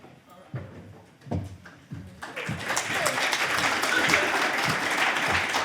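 A conference audience applauds the speaker, scattered claps and a few words at first, then a full, steady round of applause that builds and holds.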